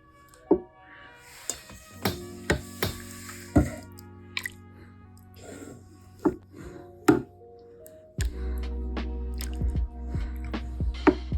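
Thick, creamy Alfredo sauce is mixed into spaghetti pasta, giving soft wet squishes and scraping clicks from a utensil against the pan, with sharper taps scattered throughout and a steady low hum running underneath toward the end.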